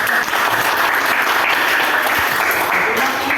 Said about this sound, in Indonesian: Akan berikan tepuk tangan dulu.